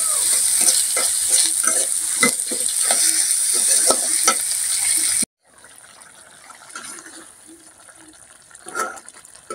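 Tilapia fish frying with ginger, garlic and spices in a pan, a loud steady sizzle broken by scraping stirs and clinks, then a sudden drop to a quieter, softer frying hiss with occasional utensil taps.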